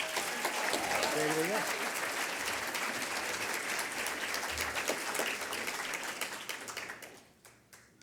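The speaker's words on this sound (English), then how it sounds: "so another great round of applause." Audience applause at an awards night honoring achievement, a full, sustained round of many hands clapping with some cheers, fading out near the end as a voice speaks briefly.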